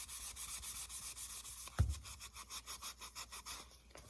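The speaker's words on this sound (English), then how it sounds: "now we are going to scuff the surface of this pod" A scuff pad rubs back and forth across the surface of a pod, a soft rhythmic abrasive scrubbing heard up close, with a single light knock partway through.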